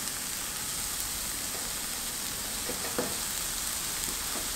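Onion and garlic sizzle softly in a pan, a quiet, steady crackle with a few faint stirring clicks.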